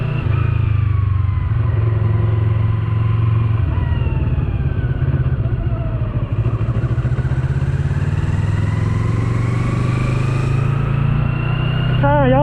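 A Colove 321RR motorcycle engine runs steadily throughout a test ride, loud and close, with a deep constant drone and rising, falling revs, plus faint wind and clatter.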